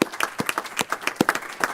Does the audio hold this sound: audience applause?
yes